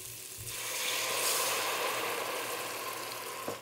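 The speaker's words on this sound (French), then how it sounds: "Et c'est là qu'on va ajouter notre tasse de vin blanc." White wine poured into a hot pan of quinoa risotto, giving a steady broad sizzling hiss that rises quickly and holds at a fairly loud level, with a faint liquid pour underneath.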